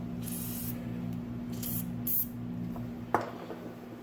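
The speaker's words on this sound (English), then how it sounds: "I'm just going to use some carburetor brake cleaner and just spray a little bit" Several short hissing bursts of carburetor brake cleaner sprayed onto a paper towel, broad and airy, over a steady low hum, followed by a faint clatter.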